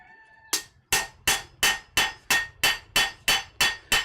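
A blacksmith smooths lumpy metal in a damp smithy with a lit fire, striking with a hammer in a steady rhythm of about ten close, ringing blows, each decaying before the next.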